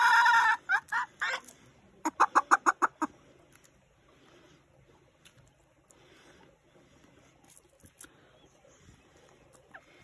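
Hens feeding on cracked corn cluck loudly in a burst of rapid, repeated calls, then settle into quieter scattered clucks and pecking noises nearby.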